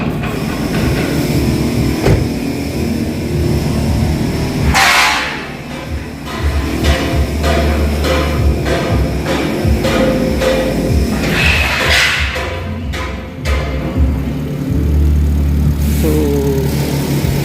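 The engine of a Nissan Note, after a misfire repair, runs loud and close with a steady mechanical drone and rapid rhythmic ticking, with no talk over it.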